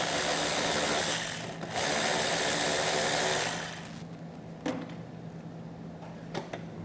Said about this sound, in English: take a 7mm socket and get it removed